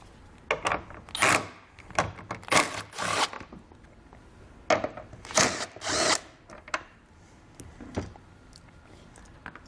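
Power tool, most likely a drill or impact driver, taking out two 10mm bolts near the tail light of a 2020 Subaru Forester during a hidden trailer hitch install, running in several short bursts of loud close whirring with brief pauses between.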